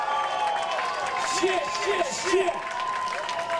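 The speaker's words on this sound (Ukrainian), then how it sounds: "ваші земляки заслуговують більше оплесків і овацій!" Festival crowd at an outdoor charity music festival applauding and cheering, dense continuous clapping and shouts with a loud voice calling out over it.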